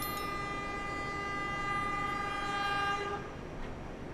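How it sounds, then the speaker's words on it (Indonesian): The Logawa passenger train from Purwokerto to Ketapang Banyuwangi, Indonesia, rolls past steadily, its horn blaring a long sustained tone before fading out near the end. "Ini adalah kereta Logawa dari Purwokerto tujuan ke stasiun Ketapang Banyuwangi"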